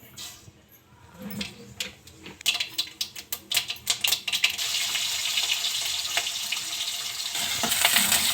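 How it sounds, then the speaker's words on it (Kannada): Mustard seeds dropped into well-heated oil in a pan for a village-style cabbage tempering, crackling and sizzling in a dense stream of sharp pops that build from quiet to a steady, close hiss. "ಬಾಣಲಿಗೆ ಎಣ್ಣೆ ಚೆನ್ನಾಗಿ ಕಾದಿದೆ ಈಗ ಜೀ ಸಾಸಿವೆ ಹಾಕೊತಾ ಇದ್ದೀನಿ"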